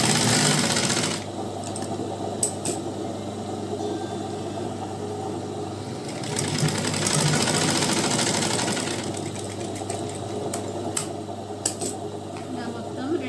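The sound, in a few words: sewing machine double stitching a chudi pant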